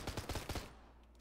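A gun with an 80-round drum magazine in a Minecraft Steampunk game fires a quick, fairly quiet burst of about five rapid shots that trail off.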